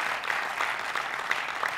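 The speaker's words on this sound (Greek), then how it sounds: "θερμό χειροκρότημα" A game show studio audience gives warm applause, a steady, even patter of many hands clapping at moderate volume for under two seconds with no voices.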